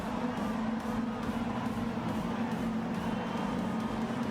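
Gr.4 race car engines roar together on the grid at Autopolis short circuit in Gran Turismo Sport, a steady dense drone of many motors with no talk over it.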